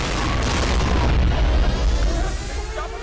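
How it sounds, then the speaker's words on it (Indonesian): Bomb blast in a film scene: a loud deep boom with rumbling low end that rolls on for a few seconds, then slowly fades with debris-like crackle. "Sebuah ledakan terjadi"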